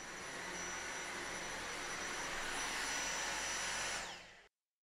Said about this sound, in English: Dyson V6 vacuums quickly and easily convert to a handheld with Dyson engineered tools for all-round cleaning.